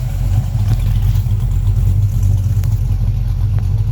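A steady low 1970 Ford Torino GT engine rumble idles throughout, constant and close, with a faint higher mechanical whine on top and no voices.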